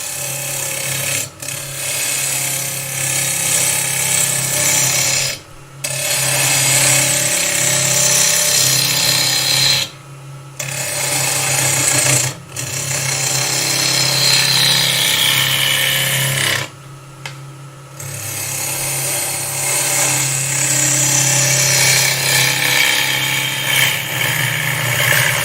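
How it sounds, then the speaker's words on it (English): A wood lathe runs while a tool cuts a spinning workpiece, loud sustained grinding and scraping that stops abruptly four times for short silent gaps before resuming. "Bring this up, bring the tool rest in, lock it off, turn the lathe on."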